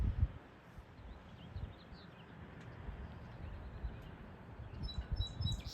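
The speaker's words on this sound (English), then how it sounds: "So I have three main birds that kind of like alternate onto my bird feeder" Small birds chirp and tweet at a garden bird feeder on a patio, brief scattered calls sounding faint and somewhat distant over a steady outdoor background hiss with light rustling.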